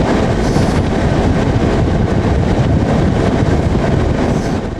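Historic Italian train running on rails toward the Genova-Sampierdarena junction station, a loud continuous rumbling roar with rattling wheel noise and wind buffeting, heard close up throughout.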